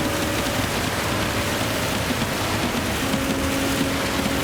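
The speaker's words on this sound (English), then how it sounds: "It's absolutely pouring down once again." Heavy rain pours down during a racing video game, a dense, even hiss of downpour over a steady engine hum throughout.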